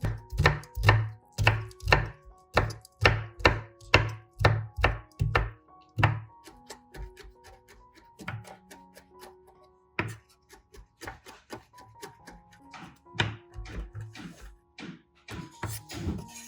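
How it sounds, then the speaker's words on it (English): A knife mincing black wood ear mushroom on a cutting board gives a fast, close run of sharp regular chops, then a slower, scattered patter of lighter cuts, with no voices. "Cut into small pieces, then mince. The finer you chop, the better."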